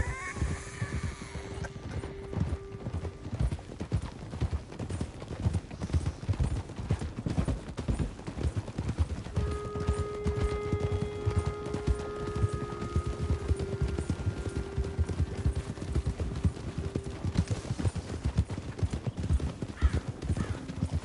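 Horse hooves clip-clop at a steady rhythmic pace through a video game scene, with a whinny and soft ambient game sounds layered behind the continuous hoofbeats.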